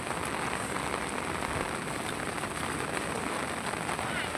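Rain falls steadily in a village, a soft, even patter of drops on surfaces that holds at a constant, fairly quiet level without pause.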